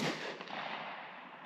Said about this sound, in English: We're going to fire 3 rounds through the chrono